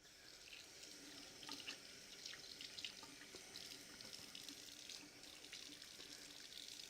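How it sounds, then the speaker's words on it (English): A running kitchen sink tap pours steadily while hands are washed beneath it, a soft continuous splashing with faint drips, fairly quiet and close, with no talking. "Wash the hands."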